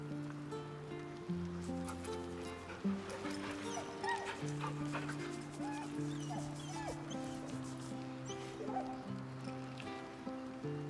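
A dog in Baldur's Gate 3 barks and whimpers with short yips and whines over steady sustained musical tones, moderately close but at low overall level.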